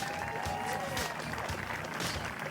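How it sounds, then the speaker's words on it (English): Crowd applause greets the silver medalists at a beach volleyball tournament final, a steady wash of clapping from a distant crowd heard under a public-address announcer's voice. "Please give them a big round of applause."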